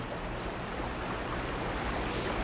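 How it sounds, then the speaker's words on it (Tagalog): A river runs fairly strong, giving a steady, dense rush of flowing water that continues unbroken and fills the whole stretch with no voices. "Palagay ko malakas ng konti ang ilog."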